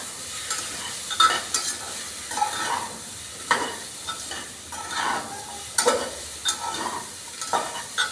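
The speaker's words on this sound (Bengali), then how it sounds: "আমি এটা আবার নাড়াচাড়া করে নিচ্ছি।" Elephant foot yam curry being stirred in a frying pan, with repeated scraping strokes over a steady sizzle at close range and no voices.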